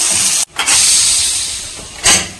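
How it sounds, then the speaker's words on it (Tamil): A pressure cooker of mutton being opened, releasing a loud, steady hiss of steam that cuts out briefly, resumes and fades, then surges again in a second short burst. "குக்கர் வந்து இப்போ தான் ஓப்பன் பண்ணி பார்க்குறோம்."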